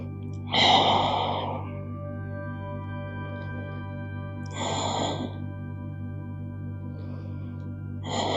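Slow, deep breaths during a yoga child's pose, two audible exhales about four seconds apart and a softer third, close and breathy over a steady low hum.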